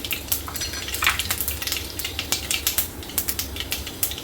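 Cumin seeds sizzling in hot oil with mustard seeds for a raw mango curry, a dense crackling fry with sharp pops and spatters, close and loud, with some stirring.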